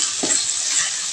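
Vegetables fry in a pan for khichuri, giving a brief, soft, steady sizzle with a faint stir near the start.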